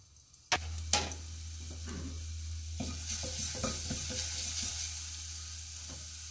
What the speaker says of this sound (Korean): 들기름에다가 마늘만 넣고 이렇게 볶아줍니다